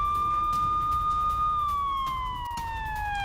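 An air raid siren in a Russian city during a missile alert wails with a steady long tone, then slowly slides lower in pitch, loud and continuous over faint background rumble.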